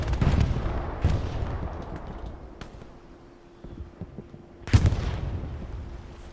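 Distant gunfire and heavy booms rumble across a Hell Let Loose battlefield, with a mounted machine gun among them, sounding as scattered thuds and cracks that are fairly faint and irregular, with one sharper blast near the end.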